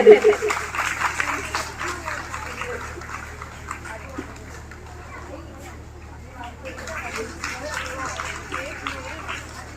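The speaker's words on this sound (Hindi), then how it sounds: "जोरदार तालियां बजाते रहिए प्लीज।" Applause at a prize announcement at Crosthwaite Girls' College carries on as a dense, steady patter of clapping from a crowd, loudest at the start, with a voice speaking over it.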